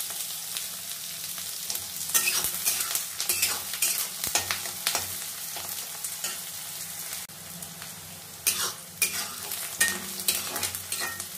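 Onions frying in a pan sizzle and crackle steadily, with occasional stirring scrapes and clinks throughout, close and fairly loud.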